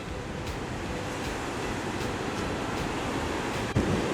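Ocean surf at Esperance, Western Australia, on a windy winter day, a steady broad roar of breaking waves with wind rush across the microphone, continuous and fairly loud with no voices.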